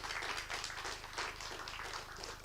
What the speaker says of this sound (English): Please give Lee Todd another round of applause.